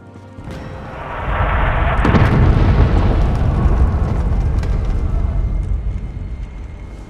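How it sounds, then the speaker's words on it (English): Fiery explosions rain from the sky in the Elder Scrolls Online, a sudden deep blast swelling into a sustained roaring rumble with scattered cracks, loud and dense before slowly fading. "It's raining fire from the sky!"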